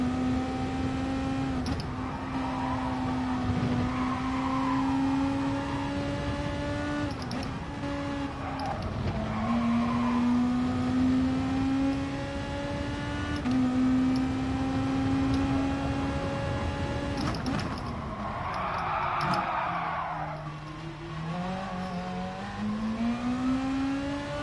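A race car engine in the Gran Turismo Sport video game pulls out of the pits, holding a steady loud drone with shifting pitch, brief gear changes and a louder rev surge near the end.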